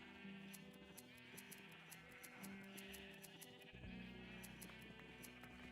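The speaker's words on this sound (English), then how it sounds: "All the sheep. It's quite loud." Several Minecraft sheep bleat over and over in a crowded in-game pen, their calls overlapping continuously, fairly close and steady, with no talk in the clip.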